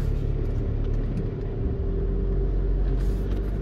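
A car rolling forward into an automatic car wash, a steady low engine and machinery rumble that holds evenly throughout, close and fairly loud.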